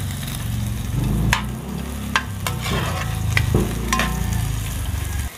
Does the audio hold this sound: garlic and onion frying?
yes